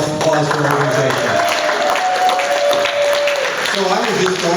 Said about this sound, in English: give her a round of applause for her organization